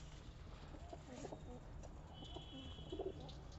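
Pigeons coo softly in a loft of champion flying pigeons, their low, rounded calls faint and somewhat distant beneath a steady background murmur.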